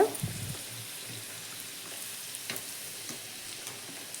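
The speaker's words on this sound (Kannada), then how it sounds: "ಸಂಡಿಗೆ ಕರೆದೆ ಸಂಡಿಗೆ ಕರ್ದಾರ ಈಗ" Sandige, sun-dried fritters, fry in hot oil with a steady close crackling sizzle and scattered pops, starting with a brief knock, with no talking.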